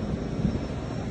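A model airplane used in falconry training drones steadily overhead outdoors, a continuous loud engine buzz with no talking.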